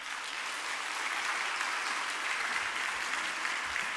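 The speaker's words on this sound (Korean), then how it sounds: "박수 한번 해주실까요?" A church congregation at a Sunday worship service claps in a steady, even wash of applause, moderately distant and unbroken for the whole stretch.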